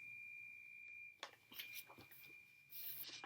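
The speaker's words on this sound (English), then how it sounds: "And with that beep, we are done. Because the bread in the oven is done." A steady electronic oven timer tone beeps for about a second, then fades out among faint household clatter and quiet shuffling.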